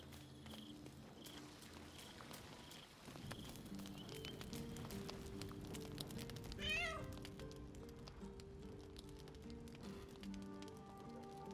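A cat meows in Baldur's Gate 3, a few clear mewing calls rising over steady game music and ambient footsteps, with one louder cry in the middle.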